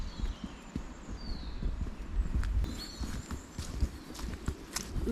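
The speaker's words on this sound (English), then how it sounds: "That was the sound of IB skidding in the mud." Soft, irregular footsteps squelch and slip on wet ground, faint and close, with a few sharper thuds among the patter.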